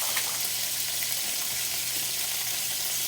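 Steak sizzles steadily in a frying pan, a loud, dense, continuous hiss and crackle with no talking, close up.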